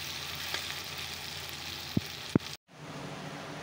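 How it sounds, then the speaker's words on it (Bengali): Onion, green chili and tomato frying together in a pan for a dried-fish chutney make a steady, even hiss with a couple of small pops. The sizzle breaks off abruptly near the end and then resumes. "এখন দেখো পেঁয়াজ, লঙ্কা, টমেটো সব ভাজা হয়ে যাচ্ছে।"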